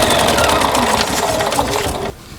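An embroidery machine stitching a placement line for an in-the-hoop eyeglass case with thin bobbin thread, a loud, fast, steady mechanical whirring and tapping that stops abruptly near the end.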